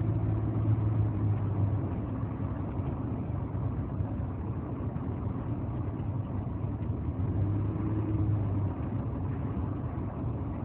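Car interior engine drone while driving and turning around on a road, a steady low rumble and road noise with a faint tonal hum, continuous and fairly quiet without talk.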